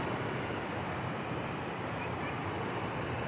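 Flowing water on the King's River, a rocky riverside spot, makes a steady, dense rushing wash that stays loud and close the whole time, with no breaks and no voices.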